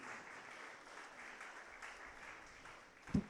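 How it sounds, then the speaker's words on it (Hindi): Soft, distant applause from a farewell gathering at a religious formation house in Ranchi, India, keeps up at an even level, ending with a brief louder thump near the close. "जोरदार हम लोग ताली बजाएंगे सबके लिए"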